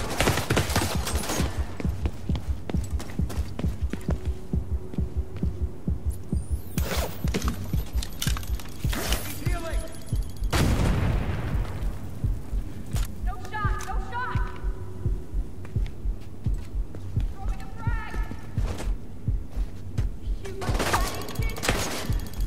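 Rapid automatic gunfire from The Division 2, sustained bursts rattling loudly across the whole stretch with occasional sharper shots, while voices shout over the firefight.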